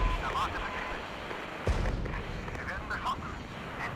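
Artillery fire in the strategy game Regiments, one deep booming impact standing out near the middle over a busy battle ambience with scattered fainter thuds and continuous talk layered over it.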